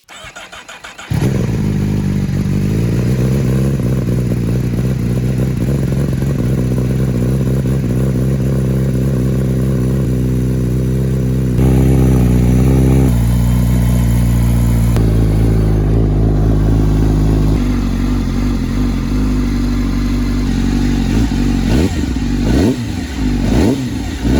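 A 2021 Honda CBR1000RR-R Fireblade SP being rebuilt after a wreck cranks and fires up, then settles into a loud, close, steady idle with a couple of brief blips in revs and no talking.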